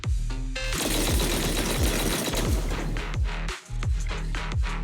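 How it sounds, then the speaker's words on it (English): Rapid, repeated heavy cannon blasts in the video game Zenless Zone Zero, firing in a steady rhythm, dense and loud, with a brief gap near the end before the firing resumes. "That was the sound of a heavy cannon?"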